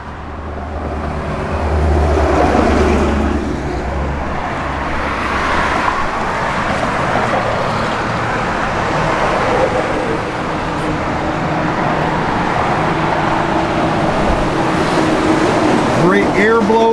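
A 1955 Chevrolet Nomad with a GM Performance Scroggins Dickey engine and custom stainless Magnaflow exhaust runs steadily nearby, a low, continuous engine rumble with light hiss from its cold-blowing air conditioning; a voice talks over it.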